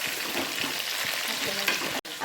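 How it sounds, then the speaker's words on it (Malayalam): Chicken biryani masala with pepper powder stirred and fried in a pan, a dense steady sizzle with soft rhythmic scraping, briefly cut off near the end. "അപ്പം എല്ലാം ഇട്ടിട്ട് ഇളക്കണം."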